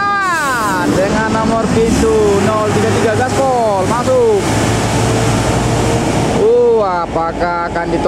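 A Sumatran intercity bus in heavy traffic entering Pekanbaru accelerates into a lane, its engine revving up and down in repeated loud sweeps amid strong wind buffeting, with someone talking throughout.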